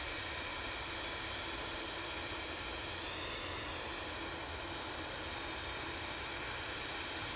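An Etihad Boeing 787-10 departs Manchester Airport with a steady, broad jet roar that holds loud and even throughout, a faint whining tone shifting slightly in the middle.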